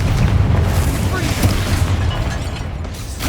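A Confringo spell explosion in Hogwarts Legacy bursts into a loud, sustained low rumbling boom that fills the moment with dense roar.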